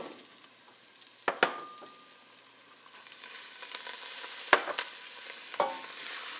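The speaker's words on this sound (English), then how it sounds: "In goes the coriander, turmeric, just a quick saute like that, and I'm going to put in my veggies right away" A pan of vegetables sautéing with coriander and turmeric gives off a soft, quiet sizzle, with a few sharp clanks of a utensil stirring against the pan at scattered moments.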